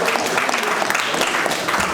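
Dense, loud applause from an audience at a community gathering in Paris, continuous clapping throughout with no pauses.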